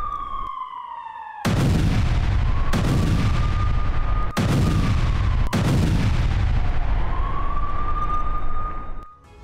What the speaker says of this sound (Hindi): लेबनान से सटे बॉर्डर इलाकों में बमबारी की गई है।